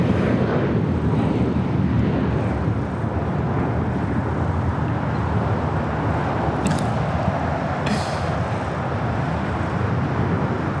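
Airplane taking off from runway 25 right at LAX, heard as a steady, loud, broadband engine roar with wind buffeting that holds throughout, plus a couple of brief higher hiss bursts near the end.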